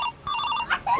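A phone ringtone for an incoming call, a short bright warbling electronic melody lasting about a second, clear and fairly loud.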